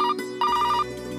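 A telephone rings with short electronic trilling bursts, a brief ring, a pause, then a longer ring, fairly close with a steady low hum underneath.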